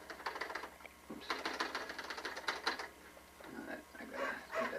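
Keys clatter on a manual typewriter as a sonnet is typed up, in bursts of fast, close, uneven strikes broken by short pauses and mechanical clunks.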